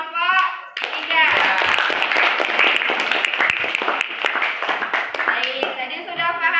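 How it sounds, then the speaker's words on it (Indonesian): Classroom audience applauding a student group presentation, a burst of loud, dense clapping from many hands that sustains for several seconds, with brief voices at the start and end. "beri aplaus untuk kelompok 3"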